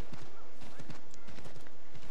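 Horse hooves in the video game Assassin's Creed III, a quick, regular clip-clop of a trotting horse, close and clear, with faint sounds in the background.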